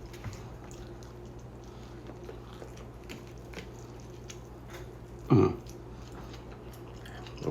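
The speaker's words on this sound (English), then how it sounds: "I'm gonna be munching on fajitas for the next several days." Someone chews a mouthful of smoked chuck steak fajita close to the mic, soft wet munching with one sharper bite or squish partway through.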